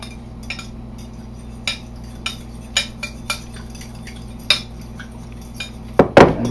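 A cooking pot being stirred after lemon pepper is added, with a utensil scraping and clinking against the pot in a few sharp, scattered taps over a steady low hum, ending in a louder clatter.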